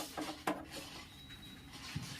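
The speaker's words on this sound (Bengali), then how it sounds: "এরপরে এই টার্মিনালের এইগুলো ওপেন করে দিচ্ছি" Small metallic clinks and taps as the battery terminals of an e-rickshaw are opened, a few faint, close, separate knocks with quiet gaps between them.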